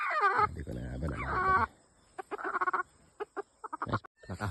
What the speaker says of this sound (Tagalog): Nakahuli din ang inahin natin. Dalawa na huli natin. Sa inahin at sa tandang.